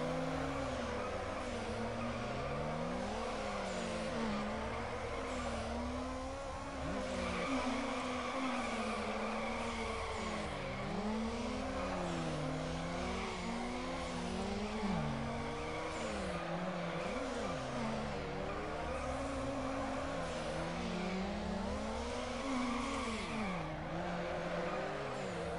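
A car racing in Need for Speed Underground with traction control on, its engine droning steadily while the pitch climbs and falls through gear shifts, with faint tire noise underneath, loud and continuous, no voices.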